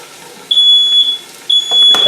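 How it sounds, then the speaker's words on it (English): A kitchen smoke alarm shrills loudly in two piercing beeps while a pot roast cooks, with clattering kitchen noise right after the second beep. "Fire alarm."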